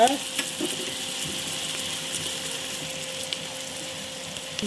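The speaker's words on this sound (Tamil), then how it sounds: "நம்ம வெங்காயம் போட்டுக்கோம். பாருங்கள், இது நல்லா வதங்கணும்." Onions sauté in a pressure cooker for mushroom biryani with a soft, steady sizzle close by, along with a faint continuous hum and an occasional light clink.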